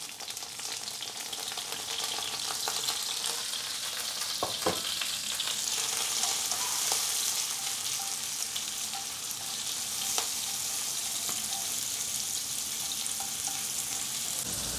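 Shiitake mushrooms and carrots stir-fry in a hot pan for Chinese noodles, giving a continuous loud sizzle with scattered clinks and scrapes of stirring throughout.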